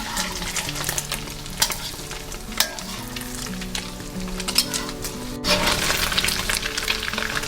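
Shrimp omelette fries in hot oil in a pan, a steady bright sizzle and crackle with occasional sharp spatters, close and continuous, with faint background music.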